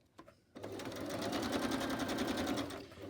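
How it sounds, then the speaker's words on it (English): A sewing machine stitches around small journal pieces, a close, steady rapid needle chatter that starts after a few faint clicks and runs continuously for nearly three seconds. "I think I've just got to stitch around those and then trim it off"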